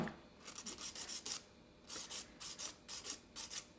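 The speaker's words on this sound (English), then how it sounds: "So filing them down as much as possible, leaving that little bit of line there" A nail file rubs back and forth over Light Elegance gel nails in a steady rhythm of quick, close, soft rasping strokes, about a dozen in a few seconds, with no voices.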